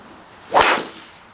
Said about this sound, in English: let's just hammer it back down in